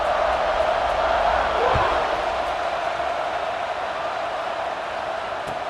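Steady stadium crowd roar from a college football game in EA Sports College Football 26, a broad continuous wash of noise around kickoff with a slight swell early on and no distinct cheers.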